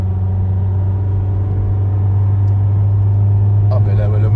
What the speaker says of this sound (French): Ah ben là, le moteur il gueule, mais c'est pas pour autant qu'elle avance.